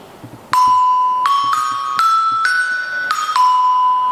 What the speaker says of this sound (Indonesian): Ini salah satu alat musik yang ada dalam grup gamelan, namanya kolintang.